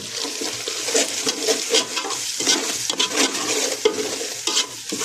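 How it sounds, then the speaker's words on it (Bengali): Spices for a chicken curry fry in a pan, sizzling and spattering while a spoon stirs them in steady scraping strokes, close and continuous with no talk. "আগে মশলাটা ভালো করে কষাই নেব"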